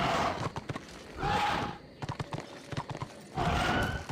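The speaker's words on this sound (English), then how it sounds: "Come on, horsey." Horse hooves clip-clop in Warhammer: Age of Reckoning, arriving in loud repeated bursts with a whinny among them and some brief talk in between.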